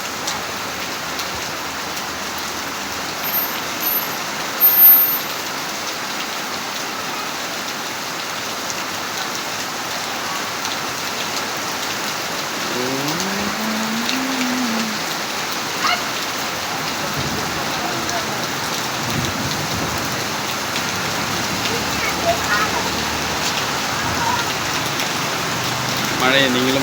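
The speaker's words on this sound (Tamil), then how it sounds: "நல்ல மழை, ஒரு 10-15 நிமிஷமாக பெஞ்சின்னு இருக்குது." Heavy rain pours steadily in Chennai, a continuous dense hiss of drops on surfaces with a few louder patters, while a voice speaks faintly over the downpour.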